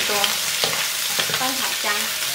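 Peanuts and old ginger slices stir-fried with chicken in a wok, with a continuous loud sizzle and repeated scraping, clattering spatula strokes close by.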